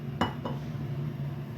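Metal frying pan set down on a stovetop for cooking, two quick clinks close together followed by a low steady hum, with no talk.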